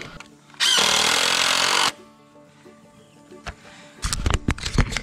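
Power drill driving screws into wood while building a chicken tractor: one loud, steady whir of about a second, then quiet workshop sounds and a burst of knocks and handling noise.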